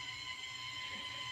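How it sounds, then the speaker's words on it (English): A paint mixer screams in an aircraft supply warehouse's paint mixing area, a steady high-pitched whine holding unbroken through the moment with a faint low rumble beneath, no voices over it. "you can hear our paint mixer screaming in the background"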